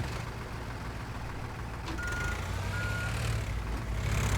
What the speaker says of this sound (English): Oh good, it does beep when it reverses.